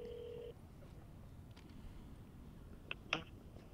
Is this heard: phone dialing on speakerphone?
yes